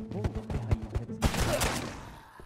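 Rapid gunfire in Ghosts Of Tabor, a string of sharp close shots in quick succession followed by a louder burst that decays into reverberant noise.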